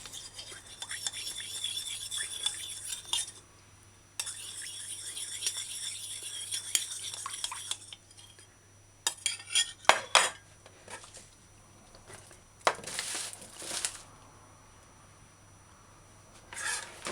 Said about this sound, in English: mix out the starch with orange juice